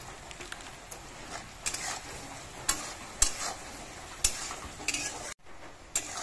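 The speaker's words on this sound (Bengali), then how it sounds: "তো আমার এই কাবলি ছোলাটা ভাজা ভাজা হয়ে গেছে।" Kabuli chickpeas frying in a pan with turmeric, a soft continuous sizzle broken by repeated sharp scrapes and clinks of a utensil stirring against the metal pan.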